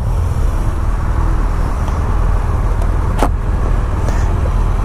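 A 2018 BMW R1200GS Adventure is ridden, and a steady, broad engine and road roar with wind rush is heard from on board, loud and continuous throughout, with no speech.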